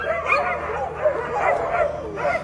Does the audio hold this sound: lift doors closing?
no